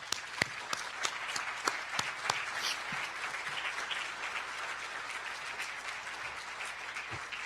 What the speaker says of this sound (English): So let's just give him a round of applause.